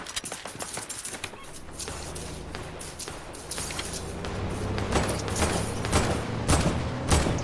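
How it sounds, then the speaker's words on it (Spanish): Gunshots ring out as a series of sharp, separate cracks spread irregularly over several seconds, fairly distant, above a rising background rumble with faint bird calls. "Acá escucho disparos"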